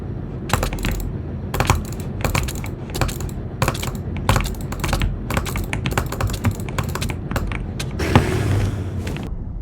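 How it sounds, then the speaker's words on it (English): Rapid bursts of computer mouse clicks during a Hypixel Bedwars match, close and crisp, coming in irregular clusters separated by brief pauses. "Burst clicking is basically when you hit and double tap on your mouse and click it only when you need to"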